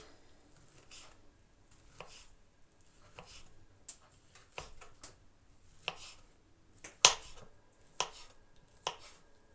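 A knife cuts sausage into strips on a board for a Chinese cabbage salad, about a dozen crisp irregular chops spaced roughly half a second to a second apart, close and fairly quiet, no talk.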